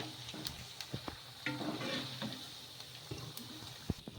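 Semiya bondas frying in hot oil over medium-high flame, a steady soft sizzle with occasional clinks and stirring knocks of a utensil, close by and fairly quiet, no talking.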